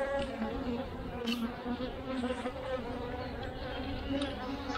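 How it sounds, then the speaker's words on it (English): Defensive honey bees buzz continuously during a hive inspection, a dense, even drone that is fairly quiet and carries on without a break. "see some unhappy bees"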